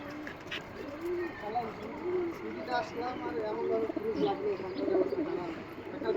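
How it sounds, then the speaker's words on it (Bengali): Pakistani Kasuri highflyer pigeons coo softly in repeated low, rolling calls at close range, mixed with a few faint chirps, while people talk over them. "অনেক সুন্দর একটা কবুতর।"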